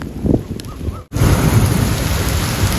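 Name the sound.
heavy rain and thunder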